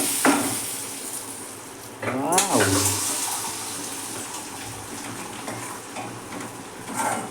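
Asafoetida and spices tempering in hot oil for a kuzhambu with curry leaves and coriander: a sharp burst of sizzling hiss that settles into a steady frying crackle, with kitchen clatter around it.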